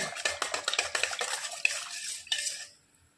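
A metal spoon stirs food in a pot, producing a quick rhythmic run of close scraping clatters and clinks that ends in a final knock and then silence.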